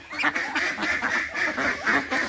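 Domestic ducks quack during morning feeding on a backyard poultry farm, a steady run of repeated close quacks with short gaps, loud and continuous throughout.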